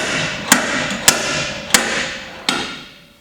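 Four evenly spaced hammer blows drive nails into the bodywork of an Iveco Daily van. Each strike lands sharp and metallic and rings briefly before the next, close and loud with no voices.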